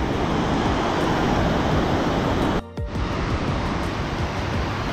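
Large volumes of water rush through the Kosi Barrage in Uttarakhand, a steady, loud broadband roar that fills the scene, broken only by a brief dip midway.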